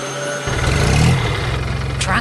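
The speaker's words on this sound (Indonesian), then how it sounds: "Suara mesinnya menggelegar membuat seluruh pertanian bergetar." A yellow cartoon tractor's engine kicks in abruptly and settles into a loud, pulsing, throbbing idle on a farm, with a brief voice-like sound near the end.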